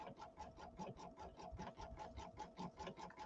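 An embroidery machine sews a satin stitch, a quiet, steady rapid ticking and whirring with an even mechanical rhythm and no voices.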